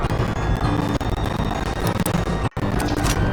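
Dense, continuous gunfire and booming blasts from a firefight in the video game Night at the Gates of Hell, with bursts packed together and a brief drop-out near the end.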